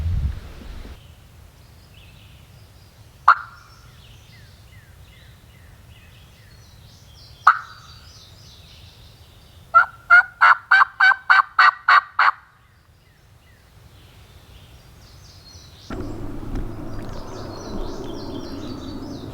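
Wild turkey gobbles ring out in a quiet swamp in the afternoon, two short distant gobbles followed by a rapid run of loud repeated calls, then a rushing noise near the end.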